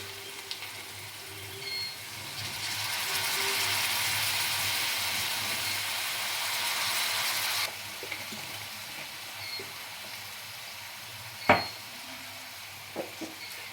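Soy sauce poured into a hot pan of chilli bhetki fish, raising a steady hissing sizzle for several seconds that then drops to a softer bubbling simmer, with a few sharp spoon clinks.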